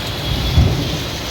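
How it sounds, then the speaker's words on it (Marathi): Steady rain pours down during a Ganpati procession in Surat, a dense broadband hiss with a brief louder rumble near the middle, close and continuous with no one talking. "पाऊस सुरू झालेला आहे मित्रांनो."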